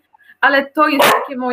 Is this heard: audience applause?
no